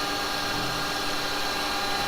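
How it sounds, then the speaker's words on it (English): Small hand drill boring a shallow divot hole in wood at a craft bench, a steady whirring drone held at even loudness throughout, close and unbroken. "I'm going to use my little hand drill for that"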